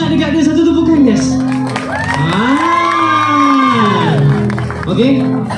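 A group cheers, shouts and whoops loudly for Syafizah, with raised voices and a few claps mixed into lively crowd noise.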